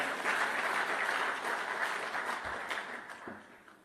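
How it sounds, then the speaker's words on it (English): An audience applauds during a live political speech in Jerusalem: dense, continuous clapping heard from a distance that gradually thins and fades toward the end. "you should applaud that"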